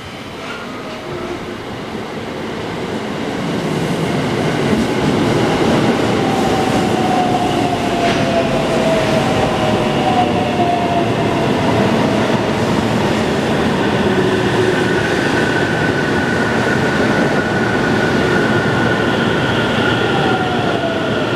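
A train rumbles steadily through Mikawa-Miya Station in Japan, loud and close, with faint wheel squeals and rail clatter over about twenty seconds and no talking.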